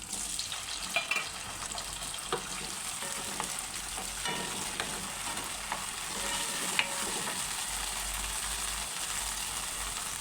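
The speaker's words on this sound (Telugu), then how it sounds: "లైట్గా వేయించుకోవాలి ఆయిల్లోనే." Tomatoes fry lightly in oil for an eggplant curry, making a soft continuous sizzle with occasional scraping stir clicks, close and steady, without talk.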